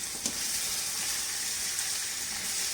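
Three tomatoes and a medium onion go into a hot pan for chicken chonge keema, producing a loud, continuous sizzling hiss with a few small pops, close and steady throughout.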